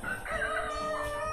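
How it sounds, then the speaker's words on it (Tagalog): A Philippine native chicken rooster crows once in a short, drawn-out call at moderate distance on a native chicken farm, with a faint low background hum. "Philippine native chicken"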